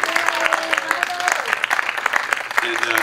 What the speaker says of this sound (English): about a round of applause for Joe?